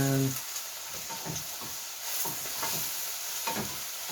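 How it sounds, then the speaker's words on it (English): A spoon scrapes and stirs cumin and other spices through softened ingredients in a pot for Moroccan chickpea and spinach soup, with soft scraping strokes over a steady sizzle and hiss. "Give it a stir."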